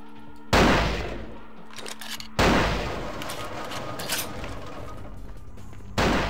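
Sniper duel gunfire in the video game Vampire: Bloodlines: three loud, sharp rifle shots spaced a few seconds apart, each ringing out with a long echoing decay.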